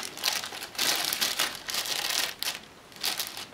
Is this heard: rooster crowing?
no